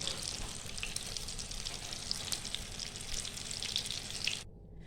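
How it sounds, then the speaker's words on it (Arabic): Cauliflower balls deep-fry in oil with a dense, steady hiss and crackle, close and fairly even, cutting off abruptly near the end, with no one speaking. "انا هنا راح نقلي كامل الحبات تاوعي"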